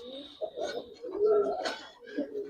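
A Giribaz pigeon, a Bangladeshi flying breed being released, coos in a few soft, throaty bursts nearby, with brief pauses between calls.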